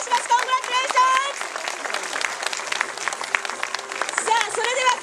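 Crowd applause at a Tour de Kumano cycling stage award ceremony in Japan, scattered clapping running under an announcer's amplified voice speaking over a PA.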